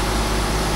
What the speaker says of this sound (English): the loader's on. So the loader's running, so that's what that noise is.